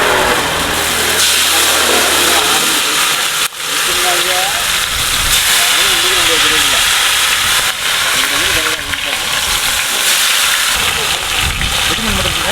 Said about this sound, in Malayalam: അപ്പോൾ ഗൈസ് നമുക്കുള്ള പാര ഫ്രൈ ആണ് റെഡി ആയിക്കൊണ്ടിരിക്കുന്നത് കേട്ടോ